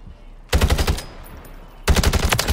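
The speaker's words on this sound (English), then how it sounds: "Ooh, I'm getting shot." Two loud bursts of rapid automatic gunfire in a battle royale shooter strike at close range, split by a brief lull.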